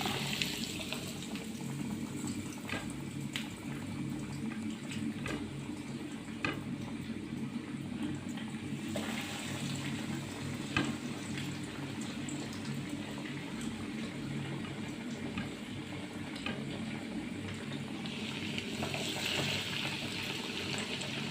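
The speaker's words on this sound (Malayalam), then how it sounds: "ഓയിൽ ചൂടായിട്ടുണ്ട് ഓയിലിലേക്ക് ഇട്ട് കൊടുക്കാം" Breaded raw plantain cutlets sizzle in hot oil in a home kitchen, a steady soft bubbling and crackle that holds at a low, even level throughout.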